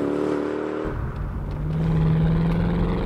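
Mercedes-Benz CLK 63 AMG Black Series accelerating hard at speed, a loud close engine roar that swells steadily with a rising tone, alone without talk.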